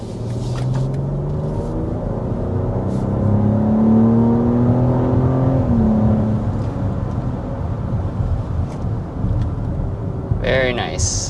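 BMW X7 40i base engine pulling hard under full acceleration up to 60, a steady loud drone with rising harmonic sweeps as revs climb, then easing; a brief chirp near the end.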